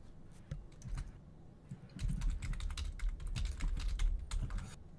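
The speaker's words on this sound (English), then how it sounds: "Fable is now typing my doom" Rapid keystrokes on a computer keyboard, clicking in dense bursts with a short lull near the start, then a steady, busier stretch of close, crisp tapping with no voices.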